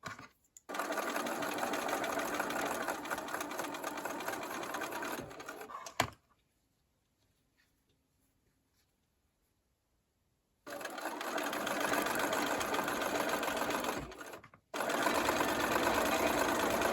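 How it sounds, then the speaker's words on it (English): A sewing machine chain piecing quilt squares for a granny-square table topper, a steady loud whirring hum that runs for several seconds, stops for a long silent gap, then runs again in two more bursts, close up. "bring these over to the sewing machine, making sure that the side to be sewn is on the right side next to my needle"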